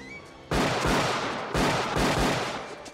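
Gunfire from a Jean-Claude Van Damme action movie: two loud bursts of rapid shots, each lasting about a second, with heavy low booms throughout and no talking over them.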